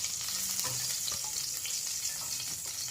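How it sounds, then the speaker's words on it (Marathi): Brinjal pieces fry and sizzle in hot oil in a kadhai with a constant crackling hiss and occasional stirring scrapes close by. "याप्रमाणे आपल्याला 1 मिनिट परतून घ्यायचे आहे वांगे."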